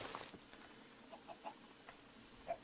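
Chickens in Minecraft Better Than Wolves giving a few faint, short clucks spread across a quiet moment.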